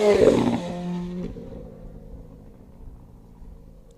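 A Ford Escort rally car engine on a Mull Rally stage, loud and harmonic at first as it passes close, then quickly fading into the distance over a low rumble.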